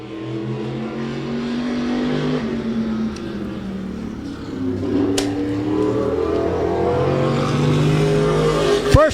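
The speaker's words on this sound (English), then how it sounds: "Aaron Fellows on the track, coming down to take the green" A race car drives a qualifying lap at Claremont Motorsports Park, its engine droning steadily and loudly, with the pitch climbing and falling as it accelerates and lifts through the corners.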